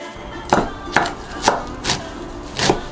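Knife chopping Korean mint (bangah) leaves on a cutting board, five separate crisp thuds at an uneven, unhurried pace, close by with no talking.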